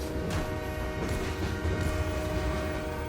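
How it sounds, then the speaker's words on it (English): Train sound effect from an attack in the card game Slay the Spire, a steady loud rumble with sustained horn-like tones and clattering, heard alone with no talk. "I see a train because you literally hit me with a train"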